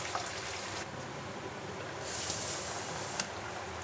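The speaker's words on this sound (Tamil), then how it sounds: "கொதிக்கட்டும்." A pot of Kerala olan simmers with turmeric just stirred in, giving a steady, soft bubbling hiss that runs throughout with no voices.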